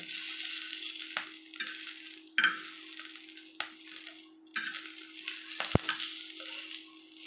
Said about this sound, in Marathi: या मिरच्यांना चांगलं खालीवर भाजून घ्यायचं